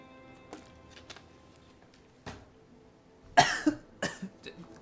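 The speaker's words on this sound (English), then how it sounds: "Every time I cough like that" A person coughs in a short fit near the base of a volcano, amid ash: a few scattered single coughs, then a louder cluster of close, harsh coughs near the end.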